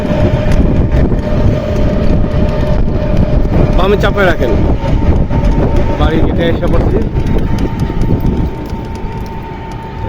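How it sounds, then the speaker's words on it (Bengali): A train passes heading toward Dhaka near a village, its loud rumbling roar filling the whole stretch and easing slightly near the end, while a person talks over it close by. "ঢাকার দিকে যেতেছে ট্রেনটা"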